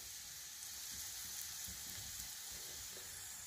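Breadfruit slices fry in hot oil with garlic, a Malvan-style dish, giving a continuous soft sizzle and crackle at low volume with no one talking.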